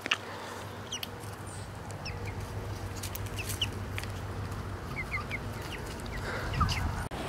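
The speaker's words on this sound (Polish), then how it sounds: "Patrzcie, kurki sobie chodzą." Hens and a rooster on a Polish farm, clucking and calling in scattered bursts over a steady outdoor background, mostly at middle distance with no talk.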